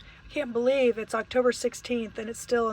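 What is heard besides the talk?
None of the usual background noises is heard.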